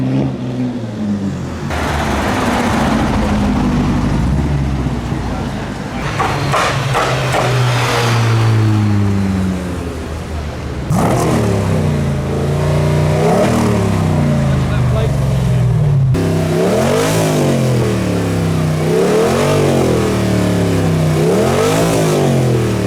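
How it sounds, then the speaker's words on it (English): A white Zenki S14 drives off from a car show with loud engine revving and repeated rising and falling acceleration pulls, close by, alongside other passing cars' engines. "We have a white Zenki S14."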